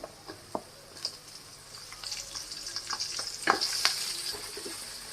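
Green chilies fry in a pan with onions for mango rice, giving soft sizzling and scattered pops and clicks of stirring that grow busier toward the end.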